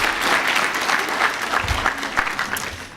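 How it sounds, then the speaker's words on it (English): At a National Honor Society induction ceremony, an audience claps for the jazz ensemble, a sustained burst of many hands close and fairly loud, tapering slightly near the end. "You can clap for them."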